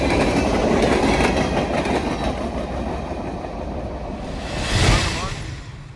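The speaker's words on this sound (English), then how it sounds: "Pan Am's office car special crawls through North Andover, Massachusetts with 2 F units in the lead." A Pan Am office car special train led by two F-unit locomotives crawls through North Andover, Massachusetts, with a steady loud rail rumble and clatter and a swelling surge of noise near the end as it passes close.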